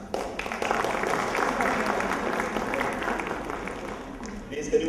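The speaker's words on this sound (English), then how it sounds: "Please, can you give another hand clap as they come on the stage?" Audience applause at a book launch for Wild Hearts of the Savannah, following an Indian dance performance; steady, dense clapping from a sizeable crowd fills the whole stretch, with voices mixed in beneath it.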